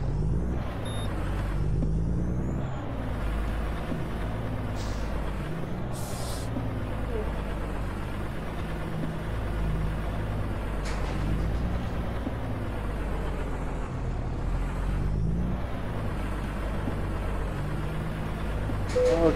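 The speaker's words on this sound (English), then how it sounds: "Love the sound of this truck." A heavy truck engine in American Truck Simulator, driving in New Mexico, holds a steady deep drone throughout, with brief hissy bursts like air brakes rising over it now and then.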